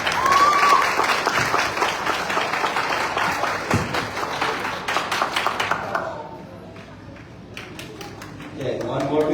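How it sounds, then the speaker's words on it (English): A graduation audience applauds in a dense round that thins and fades toward the end, leaving a few scattered claps and faint voices. "Let's give another round of applause."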